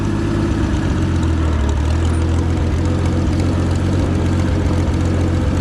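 Rough antique Oliver Super 77 tractor engine idling with no load, a loud, continuous low rumbling throb with steady rhythmic pulsing close by.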